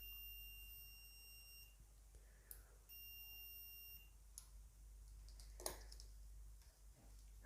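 A multimeter in continuity mode emits two steady beeps, each lasting over a second, when its probes touch together, followed by light clicks and handling taps at low volume.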